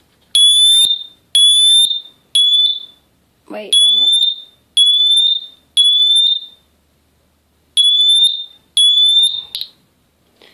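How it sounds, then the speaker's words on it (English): A First Alert Atom smoke detector sounds its test alarm: a loud, piercing electronic shriek repeating in short bursts with brief gaps, and a person speaks briefly amid the beeps. "This is the first alert Atom. I believe this is one of the most popular smoke detectors."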